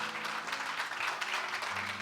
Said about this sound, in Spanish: Fuerte ese aplauso para el Señor una vez más